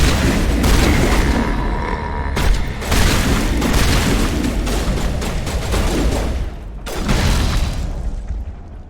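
Heavy explosive booms and sustained gunfire-like blasts roar through a Mass Effect Legendary Edition battle as a grenade detonates, loud, dense and continuous with brief dips, no talking over it.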